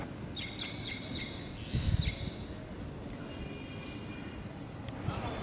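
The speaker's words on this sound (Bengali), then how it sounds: "কি, পাখির ডাকে মনটা ফ্রেশ হলো কি না?" Birds chirp and tweet outside an open window in the morning, thin repeated high calls coming from a distance over a steady low background with a brief low thump midway.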